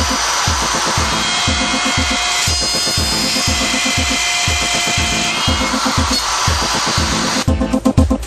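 A router bit cutting a dovetail socket in wood, a continuous loud whining drone with a steady rhythmic pulse throughout, and a rougher change in tone near the end.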